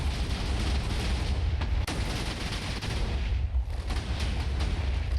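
A Minecraft TNT cannon firing during a raid sets off a dense, continuous barrage of booming explosions and rumbling blasts, loud and close, with no pauses.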